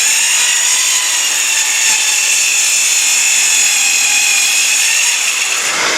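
A Porter-Cable PC 314 circular saw cuts through wood, a loud, steady high-pitched whine and rasp held for the whole stretch, close up, with no voices.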